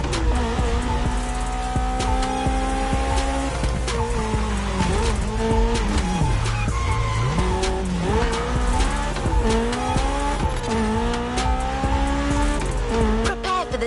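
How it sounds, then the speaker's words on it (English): A Ford Mustang Boss 429 muscle car in The Crew Motofest racing game, its engine revving loudly and shifting pitch continuously, with tires squealing throughout and no talking. "There's an absolute classic heading your way, a grail among collectors and Jim's greatest pride, the Mustang Boss 429."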